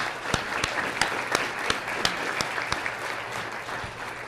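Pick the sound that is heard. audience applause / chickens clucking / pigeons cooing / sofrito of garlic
audience applause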